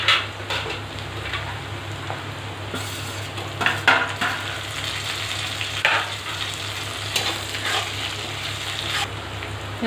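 Onions fry in a pan for mutton curry with a steady close sizzle, broken by occasional clinks and scrapes of a spoon stirring against the metal.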